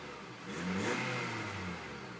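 A 2011 Nissan Sentra engine revs up and settles back down in one short, moderately loud surge, heard close and alone.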